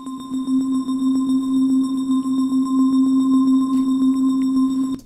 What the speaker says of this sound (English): It's basically just one note that just keeps going.